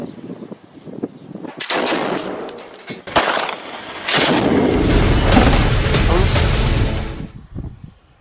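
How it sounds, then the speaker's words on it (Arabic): Heavy shelling and gunfire striking civilian homes in the al-Waer city district: loud, dense bursts of booming and rattling fire, then a sustained roaring barrage for several seconds before it fades. "قصف عنيف يستهدف منازل المدنيين في حي الوعر"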